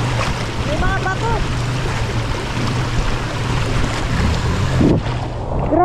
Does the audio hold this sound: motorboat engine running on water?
yes